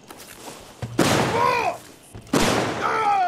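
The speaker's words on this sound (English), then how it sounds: "Firecrackers?" Firecrackers go off in the game Deathloop: two loud, sharp bangs, each followed by a whistling, crackling burst, heard close with no talk.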